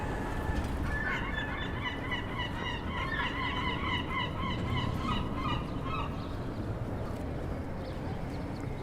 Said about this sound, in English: These seagulls are so bold.